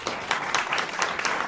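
An audience at a Brussels New Year's wishes gala applauds, a steady patter of many hands clapping together throughout, fairly close and with no voices over it.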